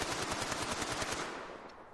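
In a Standoff 2 match, a rapid automatic-weapon burst fires through a wall for a kill, about a dozen evenly spaced loud shots that fade out at the end.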